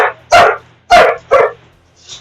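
A pet dog indoors lets out three sharp, loud barks in quick succession, close by, followed by a faint high yip.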